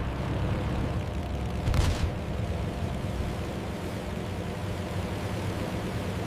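Attacking aircraft roar in a Pearl Harbor reenactment, a dense, steady wash of engine noise with a brief louder burst partway through, no voices heard.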